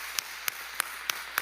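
A few sharp, evenly spaced claps, about five in a second and a half, ring out in a church service of praise and worship, fairly faint against a quiet room with no talking.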